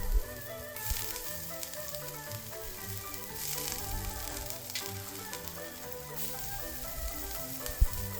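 Chopped ginger, garlic and green chilies sizzle steadily in hot oil in a wok, a close, continuous crackling hiss with brief louder spits and no talking.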